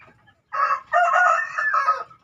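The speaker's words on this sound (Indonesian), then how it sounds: "ini jago muda ini" A young rooster crows once, close and clear, a rough, slightly broken call in three rising and falling segments.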